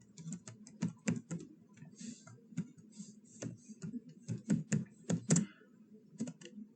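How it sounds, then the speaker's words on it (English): An email address being typed on a computer keyboard: bursts of crisp, close key clicks in an uneven rhythm with short pauses between runs, with no talking. "So in my case, I'll type my email address."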